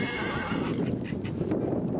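Horses neigh in a loud, close whinny with a few hoof clops mixed in, at an equestrian competition.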